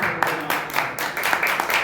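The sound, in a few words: congregation clapping hands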